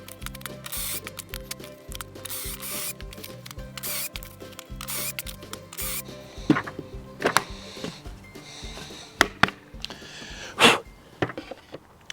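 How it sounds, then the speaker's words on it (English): Repeated bursts of a power drill whirring on and off in a regular rhythm, drilling pocket holes with a jig in wood pieces, followed by scattered clunks and clatter of workshop handling. "get the settings dialed in for the pocket hole jig, and start drilling those out"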